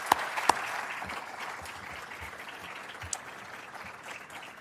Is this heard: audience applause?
yes